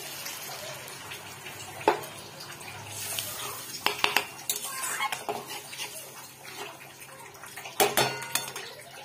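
Water is poured into a pot of rice and lentils for a Bengali muri ghonto, then stirred, with scattered clinks of a utensil against the pot and soft sloshing at a close, moderate level.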